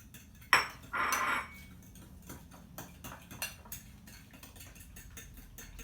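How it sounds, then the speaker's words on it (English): Sugar being mixed into sifted flour in a bowl, with a loud knock and a short scraping burst early on, then light scattered taps and soft stirring scrapes. "So we're just going to mix in our sugar first."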